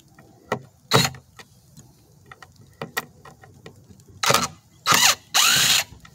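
Craftsman 20V impact driver driving a small screw, several short whirring bursts separated by pauses, then three longer, louder rattling impact bursts close by, with no talking.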